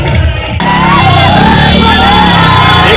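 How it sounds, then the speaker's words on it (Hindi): A large crowd at a Prashant Kishor political rally in Jhanjharpur, shouting, whooping and cheering continuously, loud and close, with a dense roar of many voices that never lets up. "काफ़ी बड़ी भीड़ आपको यहाँ पर एकत्रित हो चुकी है"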